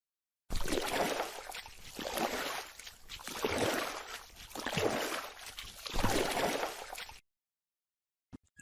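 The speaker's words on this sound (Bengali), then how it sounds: "আমি নিজেই নৌকা চালিয়ে ওপারে যাই" A cartoon sound effect of rowing a boat across a river: four rhythmic swooshing splashes of oars through water, each rising and fading, loud and close, followed by silence.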